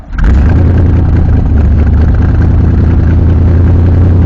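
A Corvette engine with a manual clutch starts and settles into a loud, steady, close rumbling idle that holds without letting up.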